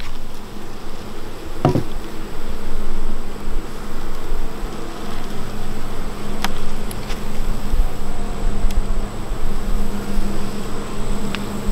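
Steady, dense buzzing of many honeybees close by at an apiary hive, continuous and busy, with a few brief knocks and rustles mixed in.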